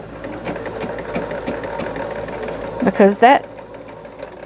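A sewing machine stitches sampler quilt pieces for a Bobbin Blooms block with a steady mechanical hum, while a person talks over it and a couple of louder bursts come near the end.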